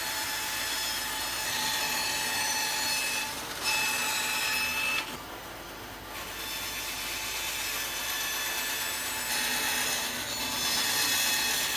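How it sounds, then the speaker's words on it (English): Bandsaw cutting wooden side rails for an Adirondack footstool, a steady close whirring cut that runs continuously with a brief dip midway. "then roughly cut out the shapes with the bandsaw"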